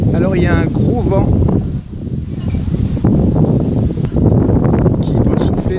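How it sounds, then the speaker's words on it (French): Strong wind buffets the camera microphone on a bridge over the Rivière Saint-Denis in Réunion on the evening of a 14 July fireworks display, a loud continuous rumble with gusts that dip briefly and return, someone talking over it. "Alors il y a un gros vent"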